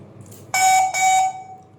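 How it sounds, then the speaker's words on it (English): An A2R camera beeps after its reset button is held: two loud, bright electronic beeps in quick succession, close up, the second slightly longer, then silence. "Press and hold the reset button of the camera for more than 5 seconds until the camera"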